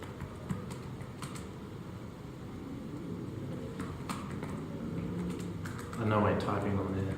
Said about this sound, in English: I know I'm typing on there.